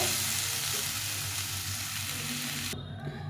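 Bitter gourd, potato and mixed vegetables frying in oil in a wok, a dense and even crackling sizzle held close and steady, with faint stirring beneath.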